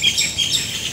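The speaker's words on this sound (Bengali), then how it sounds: "কি সুন্দর করে পাখি ডাকছে।" Birds chirp and tweet in a village in the early morning, a steady, fairly close mix of high calls overlapping through the whole second with no voices.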